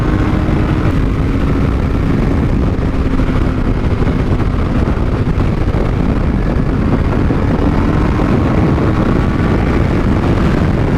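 Strong, steady wind rush roars over a Honda CBR600RR motorcycle ride, with a faint engine drone underneath and no talk, loud and constant throughout.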